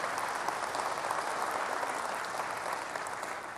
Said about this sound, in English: please, round of applause for the great work there.